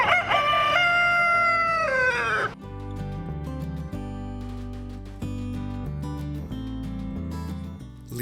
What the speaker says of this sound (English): there are over 200 chickens in Fair Oaks.